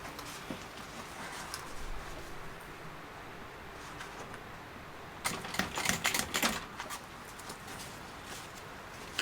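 A domestic sewing machine back-stitches to lock seams on a small dual-compartment crossbody bag, a low steady motor hum with a louder burst of rapid needle stitching partway through.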